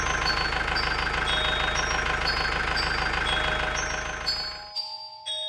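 A tractor engine in a cartoon runs at a steady idling chug with faint tonal music above it, then cuts out near the end, leaving only the music.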